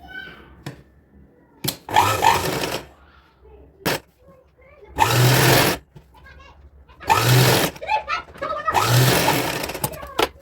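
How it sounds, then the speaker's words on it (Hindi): Sewing machine stitching a folded hem on the bottom of a child's palazzo, heard in several short bursts of motor whirring separated by pauses, with a voice talking in between. "फोल्ड करके और सिलाई लगाएंगे।"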